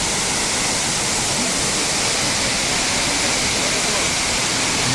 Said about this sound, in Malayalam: ദാ അബേ ഫോൾസ് അവിടെ ഇങ്ങനെ കുത്തനെ എന്താ മറിയുകയാണല്ലേ